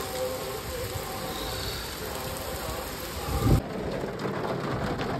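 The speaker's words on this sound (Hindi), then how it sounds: "ये देखो भाई बारिश का तो ये हाल है।" Heavy rain pours down at an old, well-kept temple, a dense continuous roar, with a short deep rumble of thunder breaking through near the middle.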